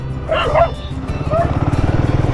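A track dog near horses on a private property in Toolangi State Forest gives a few sharp barks close by, over the steady rhythmic chug of an idling agricultural motorbike engine.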